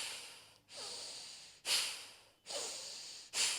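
Quick rhythmic yoga breaths during a power yoga class, four forceful nasal bursts in and out, each sharp attack fading off, close and clear with no talking.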